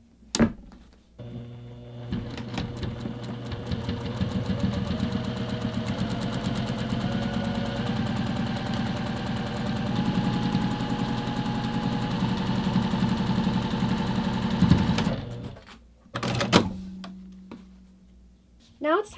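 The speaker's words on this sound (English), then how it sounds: "We're going to move this over to the sewing machine, and we're going to stitch that top edge with the opening using 1/8 inch seam allowance." A sewing machine stitches the top edge of a leather bag in a fast, steady mechanical chatter lasting about fifteen seconds, then stops, followed by a few sharp clicks and handling knocks.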